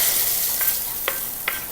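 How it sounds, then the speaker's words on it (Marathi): Tomatoes sautéing in a pan give a steady, close sizzle, with a few soft scraping strokes of stirring at regular intervals. "टोमॅटो पण आपल्याला थोडासा परतून घ्यायचा आहे"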